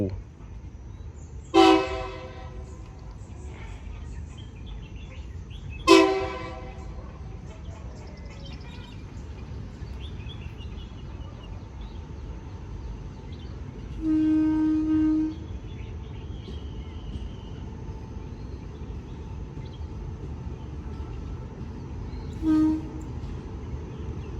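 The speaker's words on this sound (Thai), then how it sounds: "รถดีเซลรางเดวูเข้ามายังสายนครศรีธรรมราชนะครับ มาแล้วครับเดวู" Daewoo diesel railcar arriving at Nakhon Si Thammarat station, two loud horn blasts early on followed by quieter tonal whistles and a steady low rumble of the approach, with someone talking throughout.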